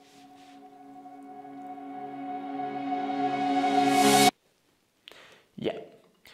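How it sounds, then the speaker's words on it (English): Reverse reverb of a synth melody from an FL Studio remake of an EDM track, a sustained tonal swell rising steadily in loudness and brightness for about four seconds, then cutting off abruptly into silence, followed by brief faint noises. "the reverse reverb of the melody."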